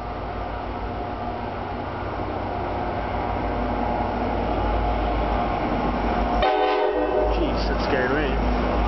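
A GP40PH-2 diesel locomotive hauling Comet V passenger cars rumbles steadily past, close and loud, with a horn blaring briefly near the end over the grinding rail noise.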